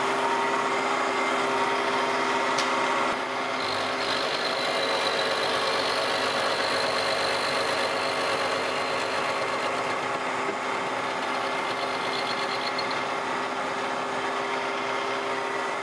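A milling machine fed by hand takes a 25-thousandths cut across a new gib for a Monarch lathe held in a vise. It makes a steady, droning mechanical whir with a faint high whine, continuous and close, with no speech.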